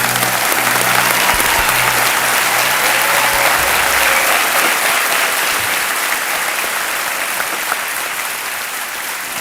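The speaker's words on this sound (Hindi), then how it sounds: "तालियों के साथ हम इनका अभिनंदन करते हैं।" A studio audience on the Indian quiz show Kaun Banega Crorepati breaks into loud, sustained applause that fills the whole stretch, with dense clapping continuing steadily throughout and no talking.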